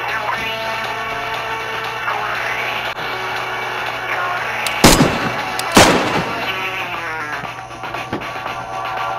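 Two sharp gunshots in the DayZ video game, about a second apart, ring out loud and close over a steady background of music and droning tones.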